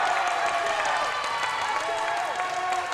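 A largely Australian crowd cheers and applauds at a Masters 35+ basketball game between USA and Australia, a loud, steady roar of clapping and voices with a commentator talking over it.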